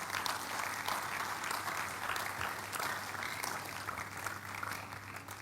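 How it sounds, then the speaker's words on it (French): A church congregation claps and cheers in sustained, dense applause at a prayer service, loud and continuous throughout with a faint steady low hum underneath. "Give the Lord a big hand of praise."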